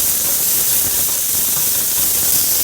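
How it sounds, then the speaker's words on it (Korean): Bell peppers stir-frying in a little cooking oil with a pinch of salt in a pan, a steady loud sizzling hiss that runs unbroken throughout. "이제 파프리카를 볶을 겁니다."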